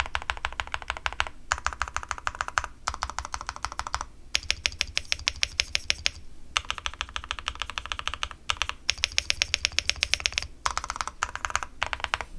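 Typing on an SPM AL87A full-aluminium custom keyboard during a stabilizer test: dense bursts of crisp keystrokes with brief pauses between runs, close and clear with no talk.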